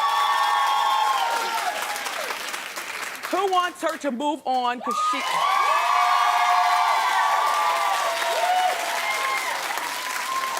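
A studio audience on a talk show claps and cheers in a poll, a sustained wash of applause broken midway by a host speaking, then resuming strongly.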